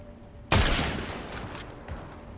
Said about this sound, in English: We get the first shot on that guy